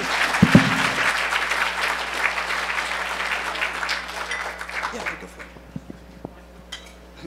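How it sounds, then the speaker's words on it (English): Conference audience applause at a hacker gathering, a loud burst of many clapping hands that holds strong for about five seconds, then thins into scattered claps, faint murmurs and small clinks as it dies away. "Give him a round of applause, everybody."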